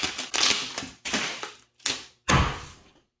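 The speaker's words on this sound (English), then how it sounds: "Shuffle your cards" Crisp, ruffling bursts of playing cards being shuffled, four or five quick riffles separated by short pauses, close and clear with no talking.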